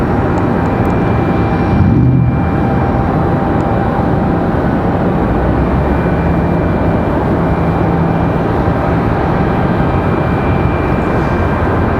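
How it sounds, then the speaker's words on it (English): A Delta CRJ regional jet landing at Raleigh-Durham airport, a steady broadband engine roar that holds at constant loudness throughout, with no talking. "About to have our Delta CRJ come back in"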